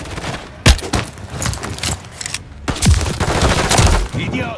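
Gunfire in Call of Duty MW3 on the Favela map, bursts of automatic fire and sharp shots with heavy low thumps, dense and loud, interspersed with brief gaps and game voices.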